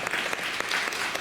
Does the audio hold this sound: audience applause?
yes